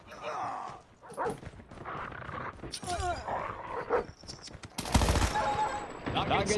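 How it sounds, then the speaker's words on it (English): Dog barks mixed with bursts of automatic gunfire in the Call of Duty Mobile shooter game, with a player talking over the busy, layered battle sounds and a loud burst near the end. "Good dog."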